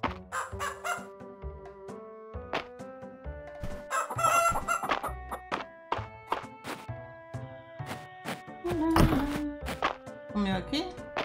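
Chickens cluck and crow in the farming game Fields of Mistria, short bright calls scattered over light game music and soft thunks, with someone talking intermittently.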